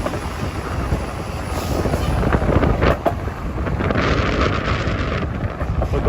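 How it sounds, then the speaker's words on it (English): Strong gusty wind buffets the microphone on a Sunday night street in Manhattan's Hudson Yards, a loud continuous rumbling roar that swells and surges in waves, with no talking. "the wind is picking up like crazy here"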